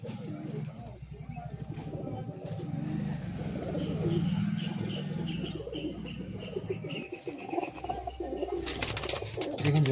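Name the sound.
pigeons cooing in a loft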